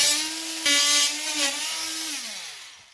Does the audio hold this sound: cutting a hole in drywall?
yes